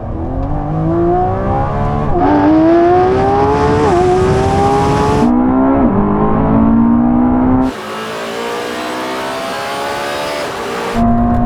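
A Lamborghini Revuelto, Porsche 918 Spyder and Ferrari SF90 accelerate hard from 30 mph in a rolling drag race in manual mode, their loud engines climbing in pitch through several gear shifts, then dropping into a quieter cabin roar.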